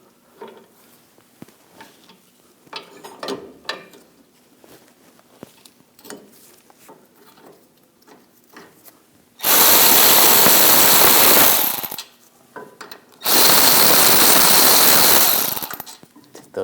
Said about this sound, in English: Now we're going to take these two bolts out, use a 12mm socket.